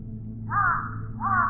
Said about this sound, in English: As the bird squirmed in his clutches, Isaac examined it